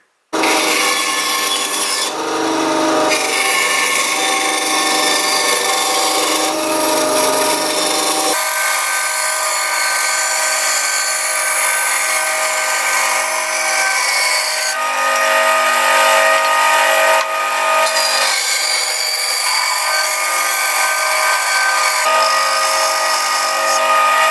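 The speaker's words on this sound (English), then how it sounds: "I've got a new bandsaw blade because my other one broke" A bandsaw with a new, sharp blade cuts a wooden swimbait blank, giving a loud, steady rasping whine that runs the whole time with slight shifts in pitch as the wood feeds through, and no talk.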